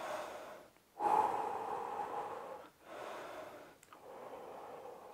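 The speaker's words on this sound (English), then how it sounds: "So let's breathe." A person takes heavy, audible breaths during a short rest between sets of an at-home fat loss workout: three or four long, close exhales and inhales separated by brief pauses, with no speech.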